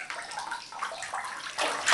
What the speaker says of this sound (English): Must be hard for her to take a bath with all that water.